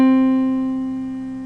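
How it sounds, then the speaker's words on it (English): A struck C4 piano string on a Yamaha 120, a single steady tone with a strong fundamental and even overtones, sounding alone and fading slowly over a second and a half. "And that's the sound of the C4 on the Yamaha 120."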